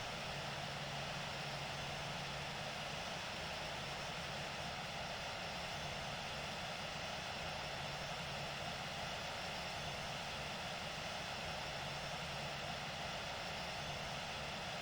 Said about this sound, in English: Starting up engine number 1.